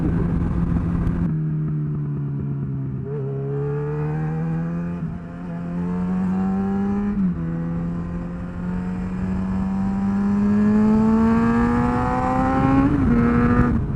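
A high-revving multi-cylinder motorcycle engine revs continuously, pitch climbing and dropping through repeated gear changes, loud and close throughout.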